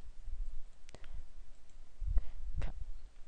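A computer mouse clicks a few times while a user works in App Inventor 2, with sharp isolated clicks over a quiet background and no speech.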